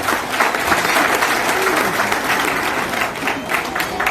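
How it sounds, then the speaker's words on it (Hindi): An audience at a Hindi-language anti-corruption awareness event with film celebrities breaks into loud, sustained applause, a dense wash of many hands clapping close by, with a voice faintly audible underneath. "जोरदार ताली होनी चाहिए।"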